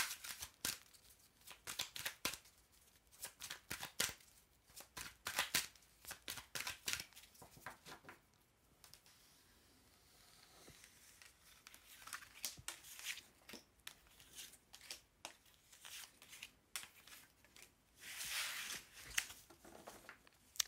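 Tarot cards shuffled by hand for a reading, a run of quick papery riffles and flutters, close and fairly soft, pausing briefly midway before resuming in bursts.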